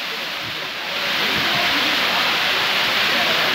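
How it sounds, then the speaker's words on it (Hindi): Heavy storm rain pours down in a dense, steady hiss that grows louder after the first second and stays constant, close and enveloping, without voices. "आप देख सकते हैं कि कितना तूफान, बहुत तेज़ी से बारिश हो रही है।"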